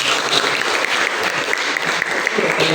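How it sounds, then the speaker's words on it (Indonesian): Students in an Indonesian history class clap together in sustained, even applause filling nearly three seconds, a dense crowd of hands with no pauses. "Tepuk tangan dulu."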